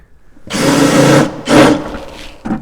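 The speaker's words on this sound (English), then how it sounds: "grab our impact driver and then drive that screw in" An impact driver drives a screw into a countersunk pilot hole in wood: a long whirring burst, a shorter second burst, then a brief final blip, loud and close with no talking.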